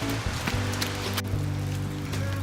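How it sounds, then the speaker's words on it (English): Rain falling on a forest trail, a steady soft hiss of drops pattering on the ground, fairly quiet and alone. "So it's raining a fair bit now"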